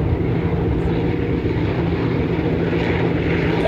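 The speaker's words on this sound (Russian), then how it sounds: "Давайте посмотрим на вертолет." Helicopter hovering about 1000 metres away at the Tank Biathlon 2017 army games in Russia, a loud, steady rotor and engine drone that holds throughout with no speech.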